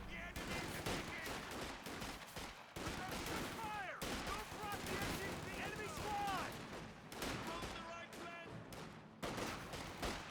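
MG42 machine gun fire and other battle sounds in Company of Heroes 2 rattle in dense, repeated bursts, mixed with explosions and unit voices under continuous commentary.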